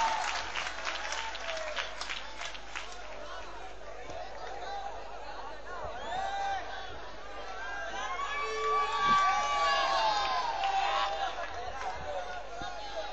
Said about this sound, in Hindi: आइए उसी तरह से तालियों से इस्तकबाल करिए तो अच्छा भी लगता है।